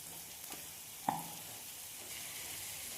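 Eggs go into a pan of sizzling masala for Kerala egg roast, a soft steady frying hiss with a single light clack partway through, quiet and close.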